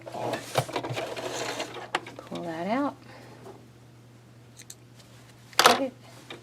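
A sewing machine stitching across the hem of a simple elastic skirt makes a brief, rising whir between other handling noises, with someone talking nearby.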